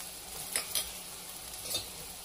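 Green chilies and grated ginger roasting in a pan, giving a soft steady sizzle with a few light scraping stirs, close and fairly quiet.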